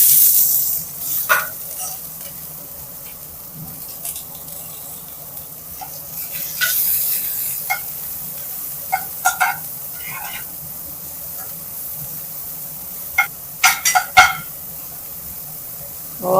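Onions sauté in a pan for a masala bread roast: a constant close sizzle under repeated spatula scrapes and taps, coming in irregular bursts that cluster toward the end.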